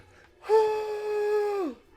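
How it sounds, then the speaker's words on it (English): A single drawn-out human yawn, loud and close, starts with a sharp breathy onset, holds a steady voiced moan for over a second, then falls away at the end. "Sorry, that was a yawn."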